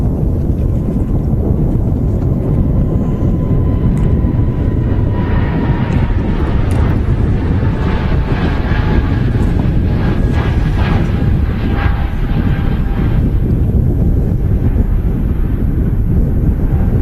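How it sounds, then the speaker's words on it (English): A British Airways A320neo rolls along the runway at Manchester Airport, a loud, continuous engine roar with wind rumble that holds for the whole stretch. "there is an aircraft rolling now on the runway. It's a British Airways A320neo"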